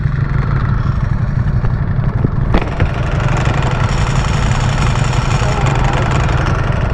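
A 2023 Ducati Streetfighter V4 SP2 motorcycle idles loudly and close, its engine a steady rumbling drone, with a sharp mechanical clutch clack partway through and talk over it.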